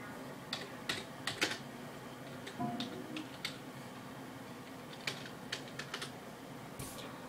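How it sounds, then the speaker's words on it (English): Bursts of typing on a computer keyboard while entering text in an online chat box, clicky keystrokes arriving in quick irregular clusters with pauses between, close and fairly quiet with no talking. "I'm gonna type something."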